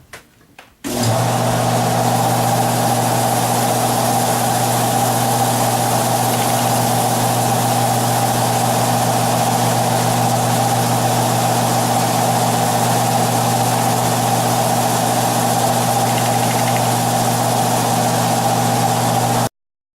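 A wooden bowl spins on a wood lathe for buffing, the motor holding a steady, loud, even hum with a constant low drone for nearly the whole stretch before cutting off abruptly.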